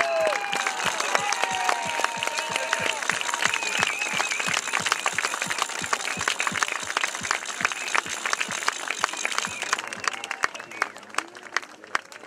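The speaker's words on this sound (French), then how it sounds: "vous pouvez les applaudir" Dense crowd applause fills a political rally in Paris supporting farmers, a steady roar of many clapping hands with scattered sharper claps and faint cheering, thinning slightly near the end.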